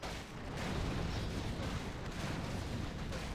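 Gryphon riders attacking in a Warcraft III battle, a steady dense clatter of ranged strikes and impacts under a continuous rumble of combat noise, fairly faint throughout with no voices.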